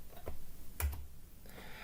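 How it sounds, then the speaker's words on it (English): Quick clicks on a computer keyboard while entering text into a hospital care-plan record: a few light, scattered taps, fairly close but faint, against quiet room tone with no talk. "we can add by simply typing into this text box"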